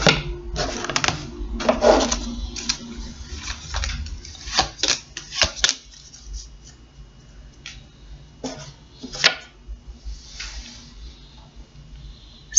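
Tarot guidance cards being drawn and handled during a psychic reading, giving a run of soft, close shuffling and card-slapping taps, with a few louder snaps and quieter pauses between them.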